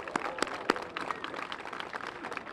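Scattered applause from a modest audience at a theater neon sign revival event, fairly faint and distant, with a few sharper individual claps standing out among the steady patter.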